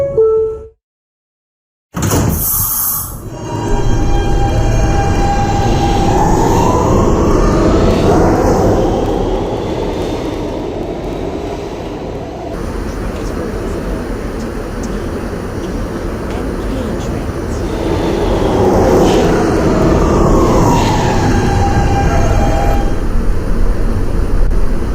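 Subway train on the B line rolling between stations, a loud continuous rumble and roar after a brief silent start, with swelling and fading passes and a screeching tonal sweep rising and falling.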